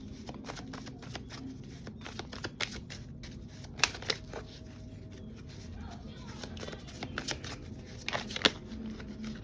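Tarot cards are shuffled in quick, papery riffles and flicks, close and quiet, in bursts over several seconds.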